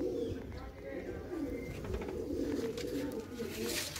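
Pet pigeons coo softly in low, repeated throaty calls nearby, with people talking over them.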